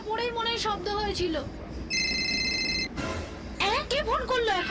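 A telephone rings with a steady electronic tone lasting about a second, between stretches of talk and other bright electronic tones.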